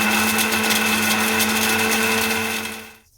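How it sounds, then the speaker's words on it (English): A spice grinder whirs steadily as it grinds dried mushroom into powder, a loud, close, unbroken high-pitched motor drone that cuts off abruptly at the end. "Grind 20 grams of the dried mushroom into the same spice grinder."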